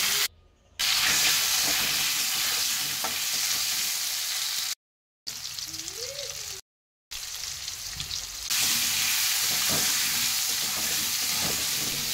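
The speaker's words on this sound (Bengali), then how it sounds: "এবারে আমি ওই তেলের ভেতরেই আলুগুলো ভেজে নেব একটু লবণ হলুদ দিয়ে।" Potatoes fry with salt and turmeric in hot oil, giving a loud, continuous close-up hiss and crackle that is broken by a few brief silent gaps, with faint clinks from stirring and no voices.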